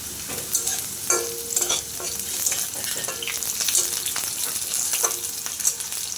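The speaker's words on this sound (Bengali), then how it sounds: "ক্যাপসিকামটা বেশি ভাজার দরকার নেই, অল্প একটু ভাজলেই হয়ে যায়।" Capsicum and green chilies fry in a pan with a continuous crackling sizzle and scraping stirs throughout, close and moderately loud with no talking.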